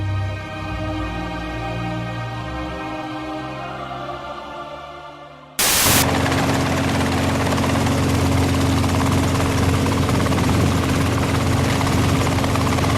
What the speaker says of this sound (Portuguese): o helicóptero tem essa agilidade de chegar primeiro